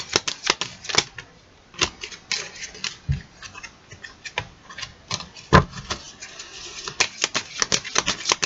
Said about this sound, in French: on va tirer 6 cartes.